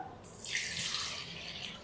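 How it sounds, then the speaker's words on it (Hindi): About a cup of water runs in a steady, splashy stream, poured into a blender jug, continuing evenly for a couple of seconds. "1 कप जितना जो पानी है वो मैंने शामिल कर दिया है।"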